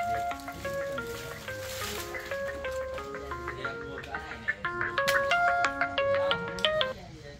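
A mobile phone plays a melodic electronic ringtone, bright repeating notes rising and falling for several seconds at moderate loudness, with no voices over it.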